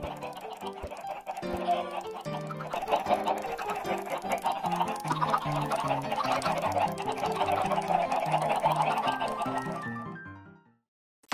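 Chickens cluck continuously in a Minecraft automatic egg-collecting coop, a dense, busy chorus of overlapping blocky game clucks and squawks that carries steadily for about ten seconds before stopping abruptly.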